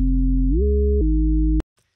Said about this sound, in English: we will need to get a sine wave like this